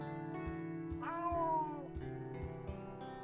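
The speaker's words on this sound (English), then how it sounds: "Oh, that's the cat, let's go check him out." A cat meows in the horror video game Simulacrum: one long, rising-then-falling meow sounds close and clear over a steady low in-game drone with soft rhythmic thumps.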